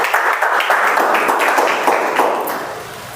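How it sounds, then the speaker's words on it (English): An audience at a Toastmaster meeting applauds, a dense patter of many hands clapping together at close range, holding steady before tapering off slightly at the end. "Keep the applause going"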